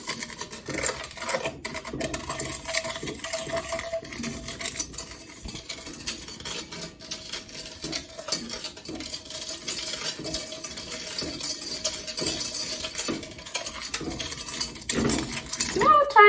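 Taffy ingredients are whisked in a bowl, making a continuous run of quick metallic clinks and scraping rattles that hold at a fairly even, close level throughout.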